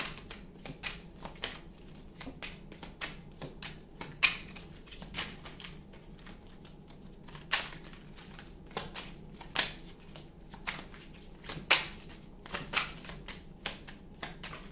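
Tarot cards are shuffled and drawn in a repeated rhythm of crisp riffling bursts and sharp flicks. The sound is close and moderately loud over a quiet background, with no speech.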